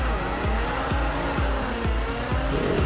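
Race car launching off the start line in Project Cars 2, engine revving hard through quick repeated upshifts with a rhythmic rising-and-dropping pattern, loud and close, no talking.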